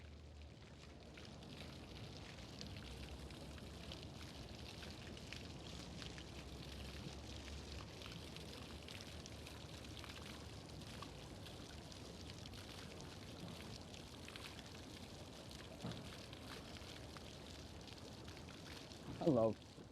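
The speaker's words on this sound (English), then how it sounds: "Fountain's going a little crazy this morning, splashing all over the place." Fountains on the Las Vegas Strip splash and rush as a steady broadband wash of falling water, continuous and fairly loud throughout, with a brief louder burst near the end.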